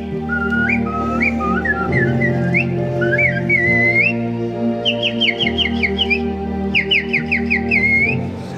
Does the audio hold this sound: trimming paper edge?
no